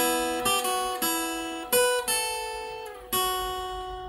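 A tonal keyboard plays a slow melodic line, single sustained notes struck one after another, each decaying before the next, clear and close with no talk.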